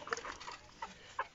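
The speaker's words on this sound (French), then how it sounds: "Donc ici il y a la poule, donc ma poule classique. Et le coq." A backyard hen and rooster give a few soft, scattered clucks and chirpy calls at moderate distance, faint and spaced out, with no voices over them.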